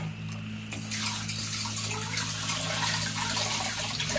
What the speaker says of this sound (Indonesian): kita kasih air dingin biar cepat. Siram aja chef.